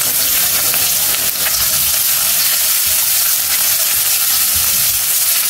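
Garlic and green chilies fry in a tablespoon of hot oil, giving a loud, close, continuous sizzle with crackling spatter and brief stirring scrapes, with no voices.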